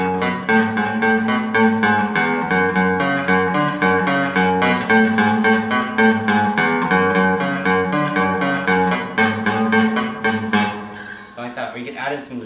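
Electric guitar playing an intro, a fast, steady run of picked notes that continues loudly and evenly, then thins out near the end.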